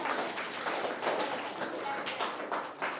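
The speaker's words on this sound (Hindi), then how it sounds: "आप एक बार तालियां बजा सकते हैं।" Audience applause at a gathering honouring Babasaheb Ambedkar at a Buddhist venue in Laxmi Nagar, Amravati: dense, steady clapping from many hands throughout, close and fairly loud, with scattered individual claps standing out.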